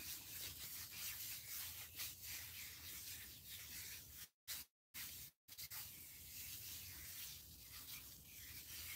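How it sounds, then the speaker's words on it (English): Hands rub massage oil onto a neck in a close, breathy ASMR setting, giving a steady soft friction that runs continuously apart from a few brief silent gaps near the middle. "I take the oil and I rub it on my neck."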